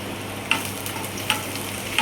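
Onions frying and browning in a pan give a steady, close sizzle with a few soft stirring clicks spaced through it, and no one speaks.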